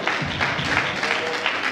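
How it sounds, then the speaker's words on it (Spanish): A short burst of clapping from the audience at a Kombat Taekwondo weigh-in event for fighters, fairly close and uneven, with a murmur of voices blended underneath. "Fuerte el aplauso para ellos."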